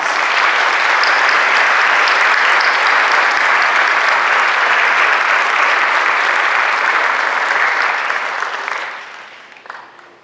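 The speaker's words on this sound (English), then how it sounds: "Let's give these mentors a round of applause." At a Phi Theta Kappa induction ceremony, an audience gives mentors a long, loud round of applause that holds steady for several seconds, then thins out and fades to scattered last claps.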